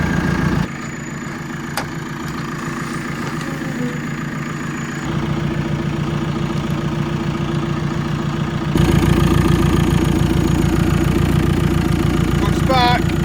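A TM tractor's diesel engine runs steadily at idle on a farm after a flat battery is charged, a continuous close rumble that rises slightly in level partway through, with no break in the running.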